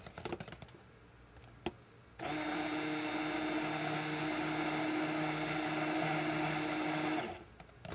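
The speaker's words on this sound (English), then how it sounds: "I'm just stick blending it again to make sure it's all incorporated" Stick blender whirring through hot process soap batter, a loud steady motor drone starting abruptly after a few faint clicks and running for about five seconds before cutting off.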